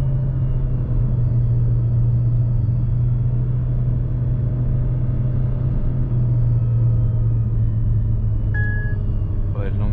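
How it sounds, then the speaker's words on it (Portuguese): A Jeep Renegade 1.8 Flex automatic car engine accelerating hard on a mountain road, a loud, steady droning rumble heard from inside the cabin, holding strong throughout. "Deixa eu dar mais uma aceleradona aqui."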